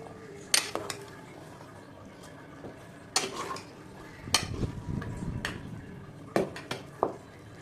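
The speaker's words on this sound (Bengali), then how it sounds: "খিচুড়িতে আমি এখন ভাজা বেগুনগুলো দিয়ে দিচ্ছি সব" A spoon scrapes and clinks against a metal pot of khichuri as fried eggplant is added, in several sharp bursts, with stirring and faint sizzling between them.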